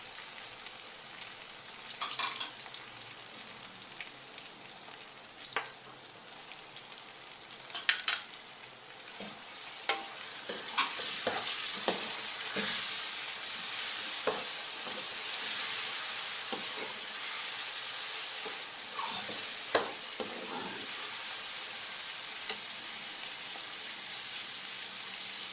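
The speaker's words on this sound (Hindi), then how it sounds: "थोड़ी देर भूनेंगे, दूसरे मसाले शामिल कर दूँगी। ये आप देखिए भून चुका है।" Onions and masala frying in a pan for kofta curry, with a steady sizzle and repeated scraping stirs of a spoon across the pan bottom, close and continuous with no speech.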